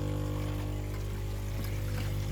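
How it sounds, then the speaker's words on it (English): Air bubbles from a pond air filter rise steadily through the water, a continuous soft pouring, trickling wash over a low electrical hum, with no voices. "That's all the air bubbles coming up."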